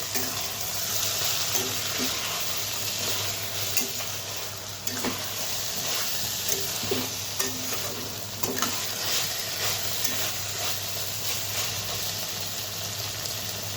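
Spice masala for a black chickpea and taro dish sizzles in a pan while being stirred, a constant frying hiss broken by repeated spoon scrapes and soft taps, close and steady throughout.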